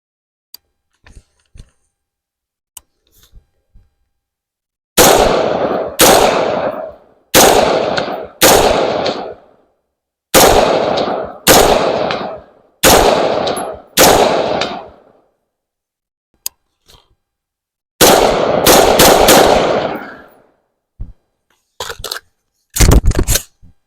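Palmetto State Armory Sabre 15 AR-15 with a 13.7-inch barrel firing 5.56 M193 rounds at steel outdoors, loud sharp shots in several spaced volleys of two to four, plus a few faint ticks and a final close pair.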